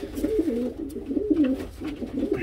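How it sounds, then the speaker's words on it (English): Mini Red Shock pigeon cooing close by in a steady run of soft, rolling low coos with no talking. "That's a beautiful pigeon, that one."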